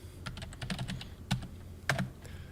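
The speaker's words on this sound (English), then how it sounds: "You're going to type in Solidworks." Close computer keyboard typing in short, uneven bursts of light clicks and taps with a couple of louder key strikes, no talk.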